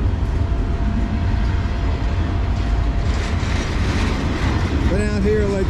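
A freight train rumbles past on the Lehigh Line, a steady loud roar of rolling cars close by, with a horn-like tonal blast rising near the end.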